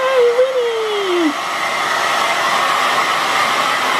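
A handheld hair dryer blows on a wet dog after a bath, giving a loud, steady, close airy whoosh that carries on unbroken, with a brief falling whine at the start and no voices.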